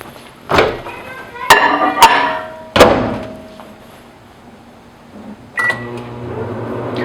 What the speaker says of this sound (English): And then we are going to put it in the microwave for 30 seconds.